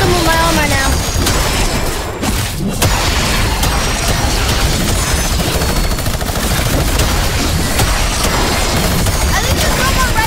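Loud, dense video game action while boxes are smashed in Fortnite, with continuous rapid mechanical clatter and gunfire-like bursts throughout the clip.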